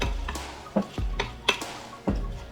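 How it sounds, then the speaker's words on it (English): Salad lettuce tossed and stirred with dressing in a bowl, close by, in a few separate soft, wet rustling sweeps and light utensil taps over a couple of seconds. "Give it a stir."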